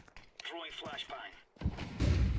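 A flashbang grenade detonates in a video game, a heavy booming blast with a sustained rumbling tail following a short burst of talk.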